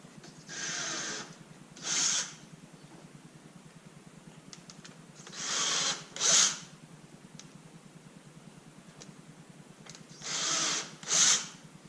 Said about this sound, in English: I'm going to mark these holes, drill a hole